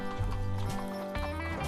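Horses on a camp trail make close clip-clopping hoof steps in a short burst, and a whinny or neigh rises over the hoofbeats.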